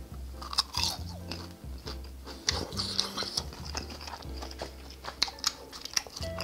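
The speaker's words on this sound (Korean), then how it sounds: "요거는 목화 탕수육인데 일단 소스 안 찍고 그냥 한번 먹어볼게요" Crispy Korean sweet and sour pork (tangsuyuk) bitten and chewed close up without sauce, giving repeated loud crunches and wet chewing in an uneven rhythm, with no talking over it.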